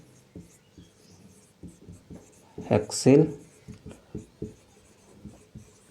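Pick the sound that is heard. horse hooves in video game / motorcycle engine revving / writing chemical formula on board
writing chemical formula on board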